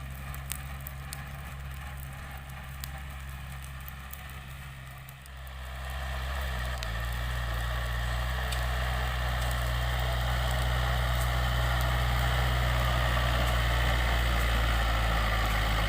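A new Yanmar EF514T tractor runs steadily while tilling a dry, sandy paddy field, its engine a loud, continuous drone that swells and grows fuller about a third of the way through, then holds a constant roar.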